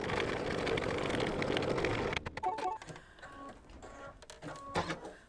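An embroidery machine stitches a tack-down line on pinwheel applique fabric, first a dense steady whir for about two seconds, then slower irregular ticks and clicks as the needle works, close and alone.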